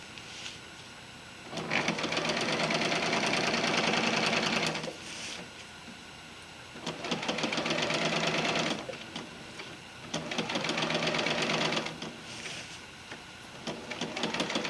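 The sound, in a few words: sewing machine stitching an underquilt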